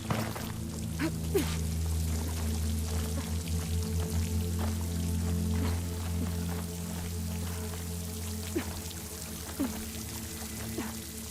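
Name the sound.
water pouring into a hollow wall, Horizon Forbidden West video game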